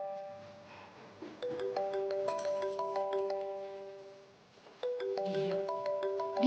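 A phone ringtone for an incoming call plays a repeating melodic chime pattern at moderate loudness, pausing briefly before starting again, with faint background noise underneath.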